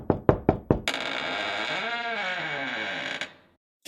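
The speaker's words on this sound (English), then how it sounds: "Orange knocks on the first door." Four sharp, close knocks on a door in a cartoon, evenly spaced in quick succession, followed by a long creaking tone as the door swings open.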